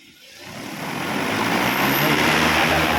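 A loud propeller whine rises from quiet to a steady, close buzzing roar as an agricultural spray drone powers up and lifts off.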